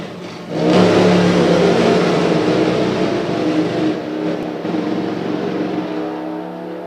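Drag racing motorcycles roar down the strip under full acceleration, a loud, sustained engine howl that swells early and holds steady as the bikes pull away.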